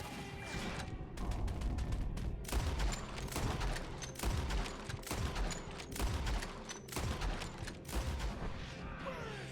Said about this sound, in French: Il y a des tirs derrière, il y a des tirs derrière.